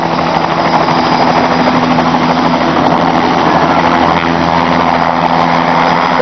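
A news helicopter flies close overhead, its engine and rotor giving a loud, steady, continuous roar throughout.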